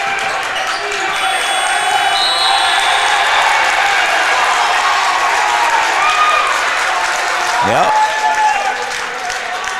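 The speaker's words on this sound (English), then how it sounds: "The Nugget fans cheering on their Hawley Nuggets" Home fans at a high school basketball game cheer on the Hawley Nuggets, with steady crowd noise and applause, a basketball bouncing on the court, and commentators talking over it.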